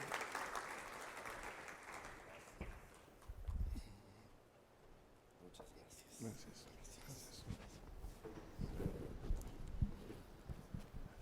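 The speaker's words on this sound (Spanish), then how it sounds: "Podemos recibirlo con fuerte aplauso, familia, por favor." Audience at a church event applauding a director, with clapping that comes and goes in bursts, fairly faint, mixed with speech and room noise.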